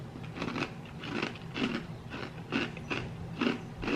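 Repeated crisp crunches close to the ear, about seven bites or chews in a steady rhythm, with no talking.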